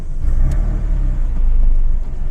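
A Porsche 996 GT3 Phase 2 Clubsport race car engine, loud and close, with a heavy low rumble and a brief sharp burst near the start as it fires up, then settles into a steady idle with no talk.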